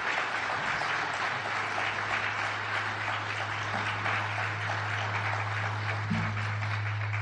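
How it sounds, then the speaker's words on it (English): An audience at a national defense forum on the ISIS threat applauds the panelists, a sustained, even roar of many hands clapping over a low steady hum, fading slightly near the end. "Please give them a round of applause."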